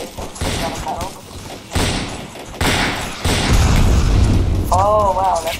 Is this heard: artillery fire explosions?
yes